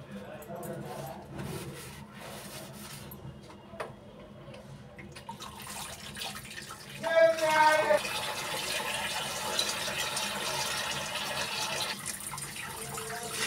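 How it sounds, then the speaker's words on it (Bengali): Tap water running over kitchen slabs as they are rinsed, a steady splashing wash that starts softly and grows fuller and louder partway through, with a person talking over it. "আর চলে এগুলো ধুয়ে এই স্ল্যাবগুলো ধুয়ে নেবো"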